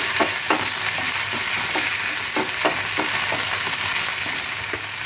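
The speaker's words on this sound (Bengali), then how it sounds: "এর মধ্যে টমেটো কুচি দিয়ে দিলাম, আর ঝালের জন্য কাঁচা লঙ্কা। হালকা ভেজে নেব, বেশি ভাজবো না।" Chopped tomato and green chilli fry with okra and onions in a pan. A steady, loud sizzle runs throughout, with repeated stirring scrapes close by.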